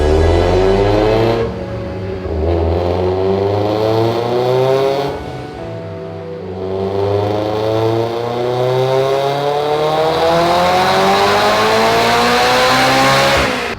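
A tuned Mitsubishi Evo X engine on a dyno at 26 PSI boost revs hard and climbs steadily in pitch, briefly dropping at shifts before screaming upward again, loud and close with no talking.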